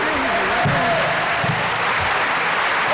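An audience claps in a theater, a dense, steady round of applause with a voice speaking over it throughout the short stretch.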